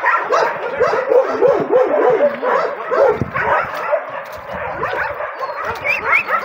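Several dogs bark, yip and whimper close by in an ongoing chorus, with overlapping calls rising and falling, in an outdoor dog yard with few shelters and swampy ground.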